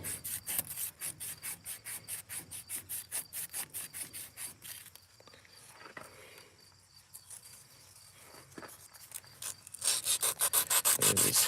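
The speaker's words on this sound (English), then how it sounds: "I'm sanding on the upper part of the bill hook jaw." Hand sanding on the upper bill hook jaw of a barn-found Dearborn baler, rapid rhythmic back-and-forth rasping strokes close up, pausing midway to softer scuffing before resuming loud, steady strokes.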